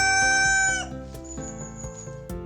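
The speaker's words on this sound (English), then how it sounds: "hear roosters crowing in the morning" A rooster crows loudly and close in a rural setting, one long drawn-out call that trails off, followed by softer clucking and fowl sounds.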